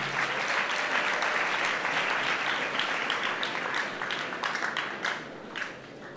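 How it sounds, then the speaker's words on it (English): Congregation applauding the school board chairman during a secondary school thanksgiving mass: a steady, fairly distant wash of many hands clapping, tapering slightly with a few louder individual claps near the end. "Let's clap for the chairman board."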